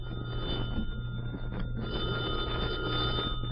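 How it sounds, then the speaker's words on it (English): An old telephone rings steadily in a tavern scene from a vintage radio comedy, a continuous bell tone over a constant background hum that does not break off. "Answer the phone, Eddie"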